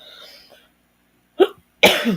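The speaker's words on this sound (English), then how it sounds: "Sorry, I'm coughing now." A couple of short coughs after a moment of near silence, close and fairly loud, with a brief murmur at the start.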